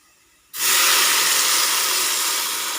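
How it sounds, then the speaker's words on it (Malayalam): Boiling water goes into a hot pan for rava upma, bursting into a sudden loud sizzling hiss after a moment of quiet, then fading slowly as the steam settles. "തിളച്ച വെള്ളമാണ് ഒഴിച്ചു കൊടുക്കേണ്ടത്."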